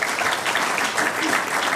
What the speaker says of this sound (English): Just a round of applause for our guests